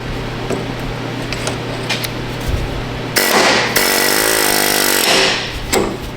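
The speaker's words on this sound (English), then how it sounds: "Now I'm gonna go ahead and take my air hammer and just basically relieve the pressure." A pneumatic air hammer rattles loudly in a burst of about two seconds against a GM truck's pitman arm, preceded by a low hum and faint clicks.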